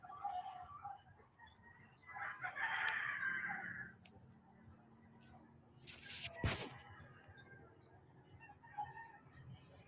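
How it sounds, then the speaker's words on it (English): Chickens and roosters crowing outdoors on an overcast morning, a faint distant crow rising around the third second over a quiet rural background, followed by a few sharp nearby knocks. "And there goes the chickens or roosters."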